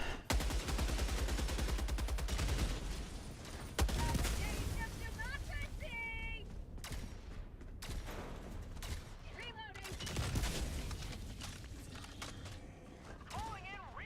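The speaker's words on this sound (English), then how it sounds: "It's the heavy machine gun." Heavy machine gun fire in the Helldivers video game, rapid sustained bursts with short pauses, mixed with mechanical in-game effects and a voice talking over the action.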